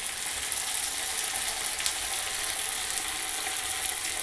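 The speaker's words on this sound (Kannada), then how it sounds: "ಖಡಕ್ಕಾಗಿ ಕಾಯಿಸಿ ಒಂದೊಂದೇ ಗೋಬಿನ ಬಿಟ್ಕೊಳ್ಬೇಕಾಗುತ್ತೆ. ಕ್ರಿಸ್ಪಿಯಾಗಿ ಬರುತ್ತೆ. ಚೆನ್ನಾಗಿ ಫ್ರೈ ಮಾಡ್ಕೊಳ್ಬೇಕಾಗುತ್ತೆ." Cauliflower (gobi) pieces deep-fry in hot oil for gobi manchurian, giving a steady, close, even sizzle with a constant bubbling hiss and no pauses.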